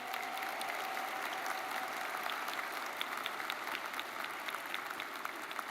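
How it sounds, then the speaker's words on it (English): Audience applause at a May commencement ceremony honoring mothers and grandmothers, a sustained, even wash of many hands clapping from a large crowd heard from a distance, with no voices over it. "Give them a round of applause, would you please?"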